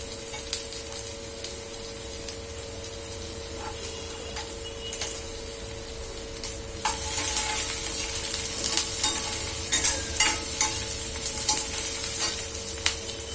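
Golden onion sizzles in a pan while a utensil scrapes and stirs it, a soft steady fry that grows louder and busier about halfway through.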